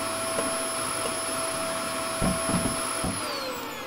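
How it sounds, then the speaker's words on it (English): Steady whirring drone of a vacuum in the video game Kill It With Fire as it sucks up spiders, running continuously at close range with a few soft thumps partway through. "Kill spiders using the vacuum."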